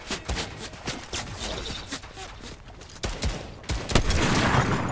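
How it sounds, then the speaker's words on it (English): Gunfire in the video game Fortnite, including sniper shots, comes as a rapid series of sharp cracks and bursts over about five seconds, growing denser and louder toward the end. "Somebody's sniping at me."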